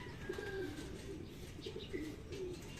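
Racing pigeons at a special training session in Cabanatuan, Nueva Ecija coo softly in a steady repeated pattern against a continuous outdoor background hum.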